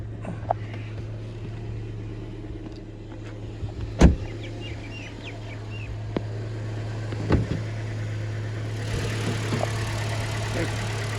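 A BMW 1 Series with a stock 1.6-litre four-cylinder engine idles with a steady low hum, with a few clicks and knocks nearby and a faint hiss toward the end.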